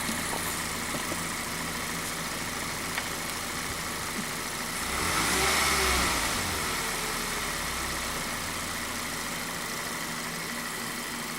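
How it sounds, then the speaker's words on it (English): VW 2.0 TSI four-cylinder car engine with lean misfires and a rear main leak, idling steadily up close, then revving up briefly and settling back to idle. "I might rev it a little bit."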